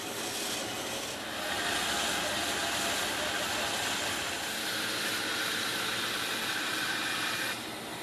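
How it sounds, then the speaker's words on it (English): A bandsaw rips through wood while shaping tapered legs for an Asian-style sitting bench, a continuous close hissing rasp that swells in the middle and then eases off near the end. "Then we go back to the bandsaw and cut out the shape."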